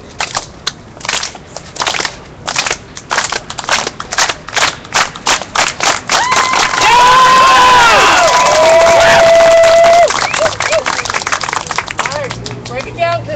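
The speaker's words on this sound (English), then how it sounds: "Let's do a solidarity clap." A group claps in unison at a gathering, rhythmic hand claps gradually quickening before breaking into loud cheering and whooping, with voices calling out near the microphone.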